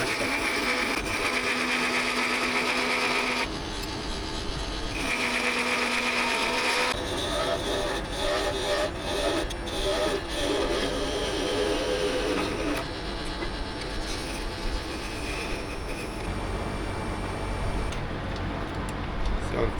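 A wood lathe spinning at about 1400 rpm while a long skew chisel shapes a wooden whistle: a steady mechanical whir with rough, shifting scraping as the tool cuts, continuous throughout.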